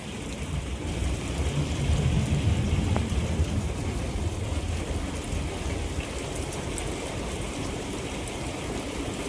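Rain falls steadily on a garden house, a thick close-up wash of drops with a faint rumble beneath, even and unbroken.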